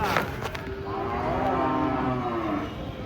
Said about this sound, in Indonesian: Dia sapi pertama yang beraksi.